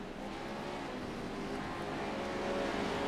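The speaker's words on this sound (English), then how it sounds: "Hear the engine roar." Race car engines at pace speed in a Pro 4 series racing video game at Watkins Glen, a steady, continuous engine drone with no talk over it.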